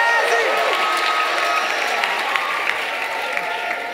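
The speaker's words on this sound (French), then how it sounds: "Est-ce qu'on peut faire du bruit pour Jésus?" A church congregation cheers and applauds in a large room at a gospel rap event, dense steady clapping with scattered shouts, loud and sustained throughout.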